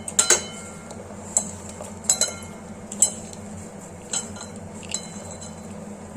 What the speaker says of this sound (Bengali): এই যে মাছটা লবণ আর হলুদ দিয়ে মাখিয়ে নিচ্ছি ভালোভাবে।